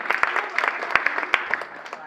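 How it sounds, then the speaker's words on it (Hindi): An audience claps steadily for a quiz contestant at a Jain temple religious quiz event, a dense, close patter of hands lasting about two seconds. "पहला पड़ाव पार करने वाले प्रतियोगी के लिए जोरदार तालियां"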